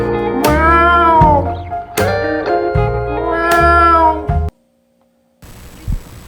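A cat gives three or four loud, drawn-out meows in close succession, then falls silent, with a faint soft bump near the end.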